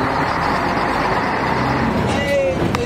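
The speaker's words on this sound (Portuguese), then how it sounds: "Tá, ronco do carro." Loud, steady engine roar from a vehicle at the Garagem de Peso Expo 2021 car show in São Roque, SP, rumbling continuously with crowd noise and people talking around it.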